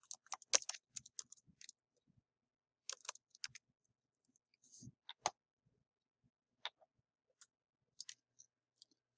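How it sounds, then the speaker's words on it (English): Scattered clicks of typing on a computer keyboard, soft and close, come in short irregular bursts separated by brief pauses. "I'm just going to keep right on typing as I get to the end of the line."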